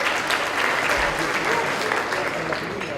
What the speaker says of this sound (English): Round of applause if you've ever had that experience